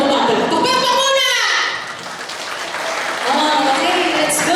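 Audience applause at an awards and recognition ceremony for scholars, a loud sustained crowd clapping that dips briefly midway before swelling again, with children's voices mixed in.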